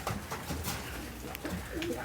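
Pigeons of the Amritsari breed coo softly on a rooftop, low murmuring calls rising and falling over a steady background hiss, with a few faint voices nearby.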